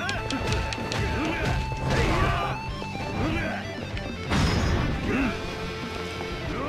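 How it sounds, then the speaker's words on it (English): A wall-smashing brawler attack in Yakuza 0 lands as a string of heavy crashes and thwacks, with game music and effects behind them and a louder burst of impacts near the end. "Essence of wall smashing."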